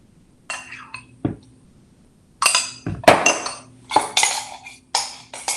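A spoon clinks and scrapes against a glass while chia seeds, milk and honey go in, with repeated bright bursts of clatter separated by short pauses, close and clear, and a brief voice between them.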